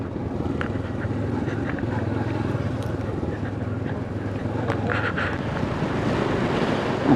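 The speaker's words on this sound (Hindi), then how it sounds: "बहुत तेज़ हवा जा रही है," Strong wind buffets the microphone in a constant heavy roar, with water and boat noise underneath and no clear speech.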